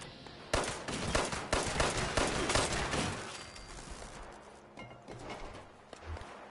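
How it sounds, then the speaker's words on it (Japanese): Rapid bursts of gunfire from robots fighting each other in Fallout 76 crackle in dense volleys, loudest early on, then thin out into scattered distant shots and mechanical clatter. "めっちゃ銃声聞こえるけど"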